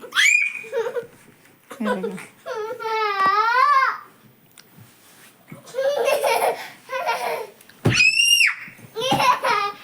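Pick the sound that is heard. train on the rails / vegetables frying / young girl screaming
young girl screaming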